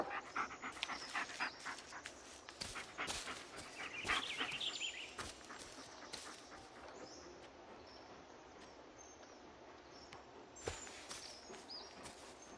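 Dog panting in the Blair Witch video game on Xbox One, a steady soft breathing rhythm heard close up over a noisy forest ambience with occasional sharp clicks and faint bird calls.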